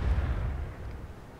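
An ISU-152 tank gun fires in World of Tanks as a deep, heavy boom with a rumbling low-end decay over about a second, loud and close with no voices.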